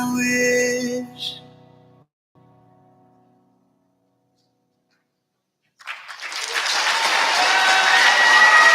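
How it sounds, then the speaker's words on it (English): At the UMA 2020 graduation ceremony, a sung performance fades into a brief hush before an audience bursts into loud, sustained applause that holds steady to the end. "Can we get one more round of applause for our team?"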